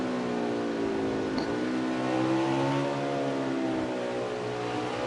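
A race car engine in a racing video game at Sonoma's Sears Point screams at high revs, its pitch dipping and climbing as it shifts down and back up through the gears; steady, loud and continuous, with no talk.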